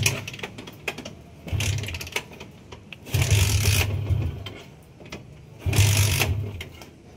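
Repeated kick-start attempts on a Yamaha Sniper 150 motorcycle with an Error 46 fault: three loud mechanical bursts of clattering and churning, each about a second long, separated by quieter ticking and rattling, with the engine never catching.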